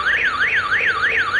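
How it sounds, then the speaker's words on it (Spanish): A Nexxt NX-MM105NXT09 home intrusion alarm siren wails loudly and steadily up and down in a repeating sweep, close by with no voices over it. "Suena la alarma"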